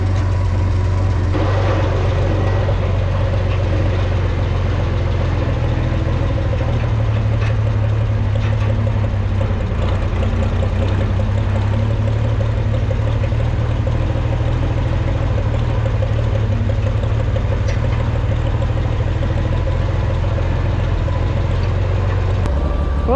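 A Farmall 460 tractor engine runs steadily with a low, continuous drone and slight unevenness, as if running rough, throughout, with no voices.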